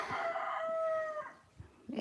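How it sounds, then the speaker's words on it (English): A rooster crows loudly and close by, one long drawn-out call with a rising then sustained tone, followed by faint background noise. "goes the rooster crowing, letting everyone know it's daytime"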